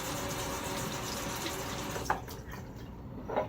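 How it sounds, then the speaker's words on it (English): Tap water running steadily to wet a safety razor for shaving, a close continuous rush that stops near the end, followed by a couple of faint handling sounds. "Wet my razor."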